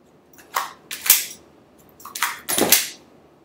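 Two pairs of sharp metallic clacks and snaps from a handgun being reloaded in emergency-reload practice, each pair a quick click followed by a louder slam, close and crisp with quiet pauses between.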